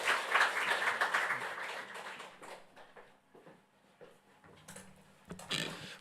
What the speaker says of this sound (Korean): 우리 다시 한번 박수하겠습니다